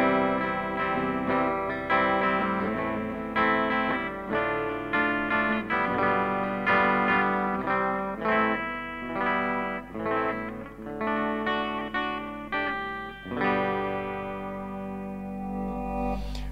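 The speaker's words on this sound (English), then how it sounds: "Switching back to the P90 at the bridge. Again, now we've got that more trebly, quackier sort of tone." An Epiphone Casino electric guitar played through its P90 bridge pickup gives a bright, trebly, quacky tone, with sustained strummed chords ringing continuously and loud, with no talking.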